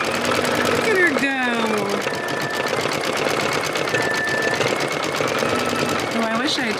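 An embroidery machine stitches out a design on fabric for an 18th-century-style pocket, a loud, rapid, continuous mechanical buzz with fast needle rhythm, close by, with a voice and whistle-like tones drifting over it.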